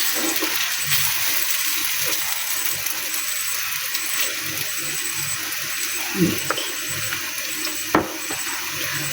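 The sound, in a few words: frying in ghee on a pan over low flame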